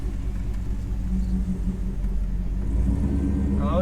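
Shop truck engine driving: a steady low rumbling drone with a loud deep tone, holding close and constant throughout.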